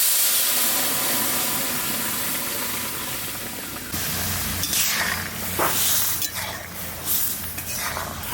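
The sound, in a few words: lentil dal poured into hot tempering, sizzling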